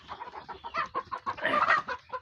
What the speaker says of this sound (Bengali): এগুলো হলো মুরগি, দেশি মুরগি।